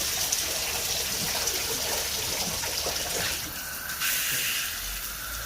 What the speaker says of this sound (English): Hot water to rinse it.